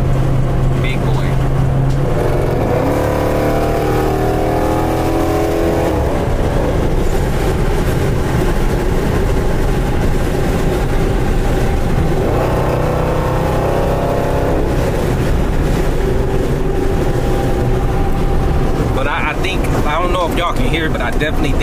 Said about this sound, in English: I definitely think it's more wind than it was before coming in here